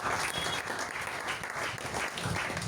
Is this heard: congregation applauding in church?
yes